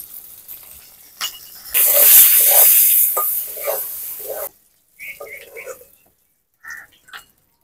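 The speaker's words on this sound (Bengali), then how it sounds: "কালো জিরা সাদা জিরে ফোড়নে দিয়ে দিলাম," Black and white cumin seeds hit hot oil in a pan with a sudden loud crackling sizzle that fades into lighter spitting, followed by a few brief stirring and scraping sounds, with someone speaking at times.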